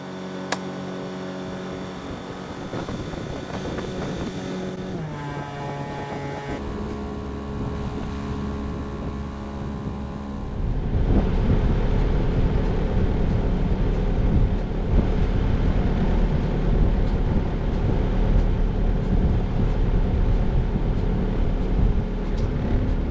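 Sailboat motoring through the anchorage at Boot Key Harbor in Marathon, its engine droning steadily with a low rumble, joined by heavier wind noise and a louder churn about halfway through.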